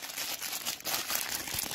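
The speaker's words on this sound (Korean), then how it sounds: "비닐봉지 집어넣을 거야" Someone handles a plastic bag near pets waiting for corn, making steady, close crinkling and rustling with small bursts throughout, and no talking.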